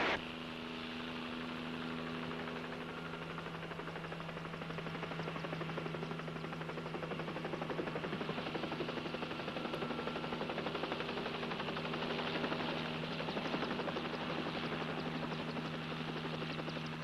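A helicopter flies in steady view, its rotor and engine droning continuously at moderate distance with a constant hum throughout, no voices.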